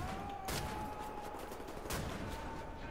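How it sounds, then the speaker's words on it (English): An automatic shotgun fires in the shooter game Wolfenstein: The New Order, giving two loud blasts about a second and a half apart over dense, constant game noise and a thin steady tone. "For close quarters, we got an automatic shotgun."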